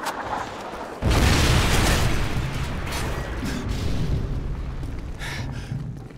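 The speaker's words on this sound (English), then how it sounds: "Friendly Predator missile inbound." A Predator missile strike in Call of Duty Modern Warfare 3 multiplayer lands in a sudden heavy boom, followed by a long rumbling roar of blast and debris amid background game sounds.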